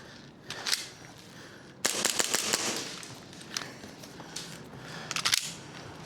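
Pistol shots ring out at an indoor or outdoor range during a timed shooting gauntlet, with sharp single reports and quick bursts of several rapid shots, loud and close, plus a few quieter clicks between strings.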